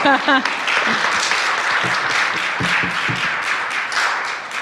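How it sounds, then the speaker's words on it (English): Audience applause breaks out at a panel discussion on an Israeli political crisis, a brief burst of clapping with a voice speaking over it at the start, then continuing as steady clapping from the room. "You can applaud, please."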